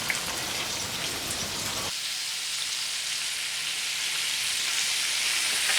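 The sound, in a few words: fish pan-frying in oil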